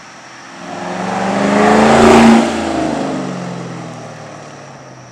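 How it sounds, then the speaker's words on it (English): A car fitted with an MBRP axle-back exhaust and muffler delete rumbles loudly, swelling as it revs up and passes close by, then easing back to a steady droning hum. "it's just like any other Axleback that's a muffler delete"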